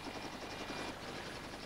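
A helicopter settles onto the flight deck of the ship Endurance, its rotor a steady, loud, close whirring drone with rhythmic blade chop throughout.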